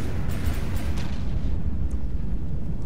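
An EMP blast in the naval combat game From The Depths gives a sustained low, rumbling roar that fills the whole stretch, with a few faint crackles on top.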